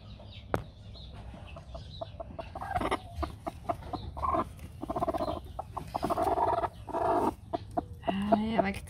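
A brooding hen sitting on duck eggs clucks repeatedly and close by at a farmyard, in soft rhythmic bursts mixed with other fowl calls, while people talk faintly in the background.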